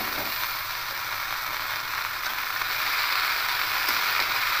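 Chopped greens going into a pan of frying potatoes for a vegetarian leafy-greens fry, a loud, steady, close hiss of sizzling oil that carries on without a break.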